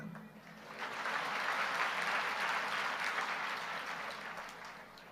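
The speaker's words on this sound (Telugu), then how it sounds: "చప్పట్లు కొట్టారు, బాగానే ఉంది" An audience at a Christian meeting in Edavalli village breaks into applause, faint and distant, swelling quickly to a sustained patter of clapping before slowly tapering off.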